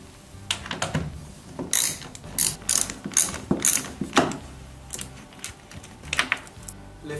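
Fasteners come off the fan unit of a FilterBox third-generation dust and fume extractor with a run of close, irregular ratcheting clicks and tool mechanism rattles, heard alone and moderately quiet.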